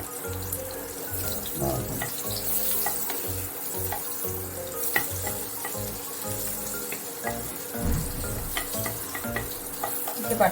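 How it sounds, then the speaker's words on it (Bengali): Butter melting and sizzling in hot oil in a pan while making pav bhaji, a steady close frying hiss with occasional stirring scrapes and faint water sounds, no talking. "তেলটা একটু গরম হয়ে উঠলে আমরা এর মধ্যে দেব একটু বাটার। বাটারটা দিয়ে বাটারটা গলে আসা পর্যন্ত অপেক্ষা করতে হবে।"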